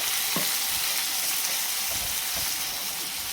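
Coarsely ground onion paste frying in hot oil for a snail curry, a steady bright sizzle with faint stirring thumps, close and continuous with no talk.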